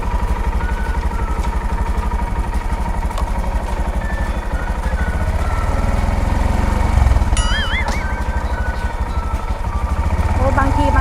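A Honda Monkey motorcycle engine idles with a steady close chugging putter, its pitch rising slightly as the bike is clicked into first gear, with a person talking over it.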